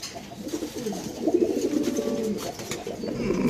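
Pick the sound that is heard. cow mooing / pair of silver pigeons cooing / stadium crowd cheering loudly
pair of silver pigeons cooing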